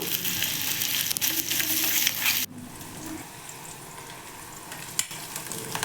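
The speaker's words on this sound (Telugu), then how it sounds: "ఉల్లిగడ్డలు కొద్దిగా మగ్గిన తర్వాత కొంచెం పచ్చిమిర్చి కూడా బాగా వేగాలి" Onions, green chillies and curry leaves frying in a pan for chicken fry piece biryani. A loud, dense sizzle drops abruptly partway through, then carries on at a quieter, steady level with one brief clink, and no voices.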